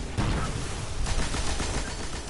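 Heavy weapon gunfire from a PS4 shooter game, a dense and continuous burst of rapid shots that stays loud and close with no pauses.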